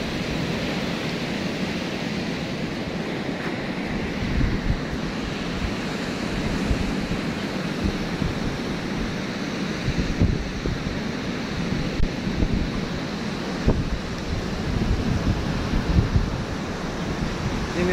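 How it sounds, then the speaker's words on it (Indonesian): Waves and wind at Madasari beach near Batukaras, a steady loud wash of surf and blustery wind buffeting close by, continuous for the whole stretch with occasional stronger surges and no talk. "Inilah pantainya."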